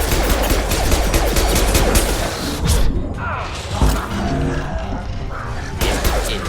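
Dense, loud bursts of rapid gunfire in the video game Mass Effect 2, sustained automatic shooting with impacts and crashes, briefly easing in the middle before resuming, with a voice speaking briefly among the shots.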